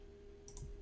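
A computer mouse gives two quick, faint clicks in close succession against a quiet room hum.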